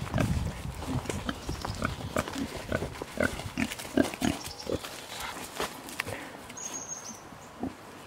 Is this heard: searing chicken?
no